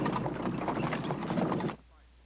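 Horse hooves clip-clop as a horse-drawn vehicle travels a dirt road in 1880s America, a quick rhythmic patter under a talking voice that stops abruptly, leaving near silence.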